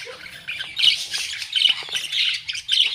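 A bird gives repeated harsh, high squawking calls in short bursts, fairly close, with no talking.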